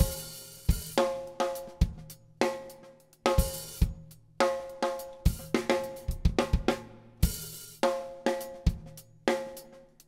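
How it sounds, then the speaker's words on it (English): Mono drum loop sample from the FluCoMa toolkit, named Nicol Loop, playing a punchy pattern of kicks, snares and cymbal hits in a steady repeating rhythm, clean and close with no voices. "drum loop that comes with the FluCoMa toolkit."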